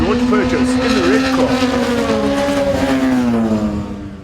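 Race cars, orange, yellow and red, roar down the main straight toward the checkered flag, a loud sustained engine drone that slowly drops in pitch as they pass, under a commentator's voice.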